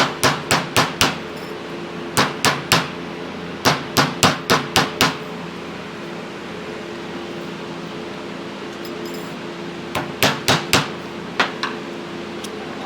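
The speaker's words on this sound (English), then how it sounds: "Brought my little anvil here over here, and we're just going to take our hammer" A hammer beats a bent metal clutch part from a Yamaha CT-3 on a small anvil, in quick bursts of four or five sharp ringing blows separated by pauses, over a steady background hum.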